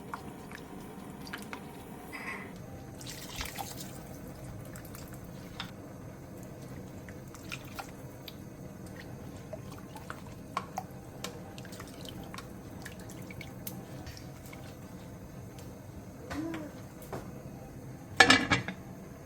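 Pork back ribs go into a pan with 3 liters of water, a green onion, half an onion, two knobs of ginger, a third cup of soju and a big spoon of doenjang: quiet close drips and soft wet squishes, then a brief clatter of cookware near the end, no talk.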